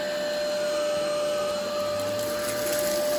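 Easine iLife G50 cordless stick vacuum running steadily while sucking up jelly beans, a constant high-pitched motor whine and airflow hum with faint rattles of candy, close and uninterrupted.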